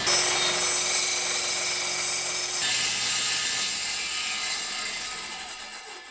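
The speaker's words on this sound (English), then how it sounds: "I went ahead and pushed this through until my termination cut reached that line of the table" A table saw rips through a wooden test piece with a loud, steady whine that shifts partway through the cut, then slowly fades as the blade winds down.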